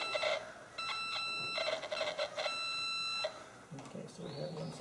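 A scanner used on a horse gives repeated electronic beeps in short bursts, with a brief gap, heard over a soft background with faint voices.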